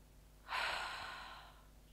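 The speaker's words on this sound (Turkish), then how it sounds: "burnumuzdan bir kere derin bir nefes alıp ister burundan ister ağızdan boşaltıyoruz" A single deep breath drawn in and released, a soft airy rush lasting about a second, close and quiet against a still room.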